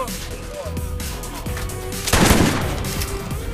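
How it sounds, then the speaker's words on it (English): Sledge's shotgun fires in the Borderlands video game, a burst of rapid gunfire blasts with one louder blast in the middle, set against game music, while voices talk over the action. "Turns out, Sledge's shotgun is terrible."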